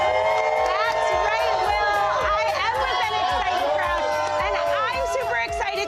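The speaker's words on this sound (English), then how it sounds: "as Bills fans count down to Sunday's big game, and she is with an excited crowd" An excited crowd of Buffalo Bills fans packs the Big Tree Inn, loud chatter, cheers and overlapping voices filling the space continuously at close range.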